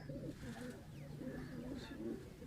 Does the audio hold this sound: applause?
no